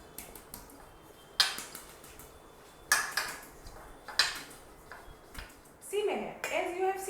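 Cake batter for a chocolate cake being mixed in a bowl, with sharp clinks and scrapes of a utensil against the bowl at irregular intervals, and a longer rattling stir near the end.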